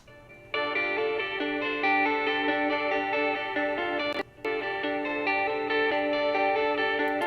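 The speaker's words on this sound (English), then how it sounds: "Tapping really can give you a very interesting high interval jumping sound" A distorted electric guitar plays a continuous stream of fast tapped notes with wide interval jumps and reverb, pausing briefly near the end before resuming; no voices.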